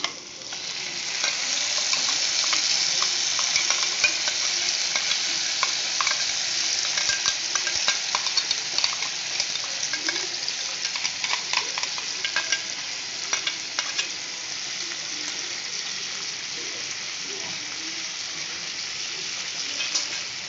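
Masala paste sizzles loudly in hot oil in a pan for an egg curry while a spoon stirs it. The crackle and scraping stay dense and continuous, close up and free of speech.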